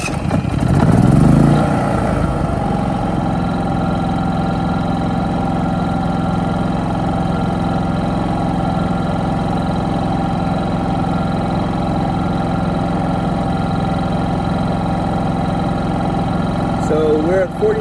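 A portable generator running steadily in eco mode outdoors, a continuous mid-pitched engine drone with a low hum that stays even throughout after a brief louder start, with wind in the background.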